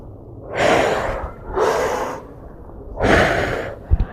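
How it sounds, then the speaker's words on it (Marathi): Three strong, close exhalations pushed out through the mouth during a home exercise routine, each a loud breathy rush about a second long, evenly spaced with short pauses between. "तोंडावाटे श्वास सोडायचा आहे"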